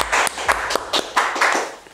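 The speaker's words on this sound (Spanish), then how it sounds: "Un aplauso, por favor, para Cristian." A small group applauds a podcast guest in a studio, a loud, close burst of claps in a quick, slightly uneven rhythm, fading out after about two seconds with no talk over it.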